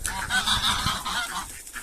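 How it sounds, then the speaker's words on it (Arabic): Ducks kept with other birds in a home loft give loud, repeated honking calls that overlap in a steady, busy flurry throughout, with no voices. "شو البطوط شباب"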